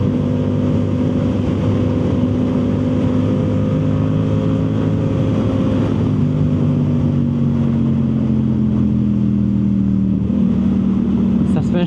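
A Yamaha YZF R7 fitted with a Yoshimura full exhaust drones loudly and steadily while being ridden, its engine note holding a continuous tone that shifts slightly in pitch throughout.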